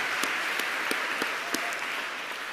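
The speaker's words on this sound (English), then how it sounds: "Another round of applause for our winners" An audience at an awards ceremony claps for the winners, a dense even wash of applause with a few sharper individual claps standing out, steady for the whole stretch.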